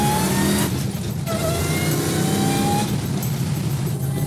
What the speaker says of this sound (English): First gear, second, there's the supercharger kicking in.